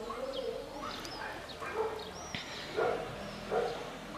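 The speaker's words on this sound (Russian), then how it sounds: "Чайки летают." Seagulls call over a Spanish seaside town on a summer evening, several separate cries at a moderate distance over steady outdoor background noise.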